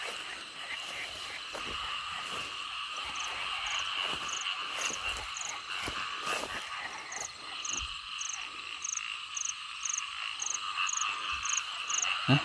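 Frogs croak loudly and continuously across a rain-flooded rice field at night after heavy rain, with insects chirping steadily over the chorus and the croaks swelling and pulsing throughout.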